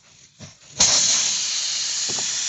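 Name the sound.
air escaping from punctured tire during plug repair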